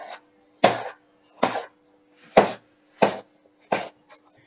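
A knife chops ingredients on a board for a village-style anchovy dry fish curry: six sharp, evenly spaced chops, close and distinct, with short quiet gaps between them.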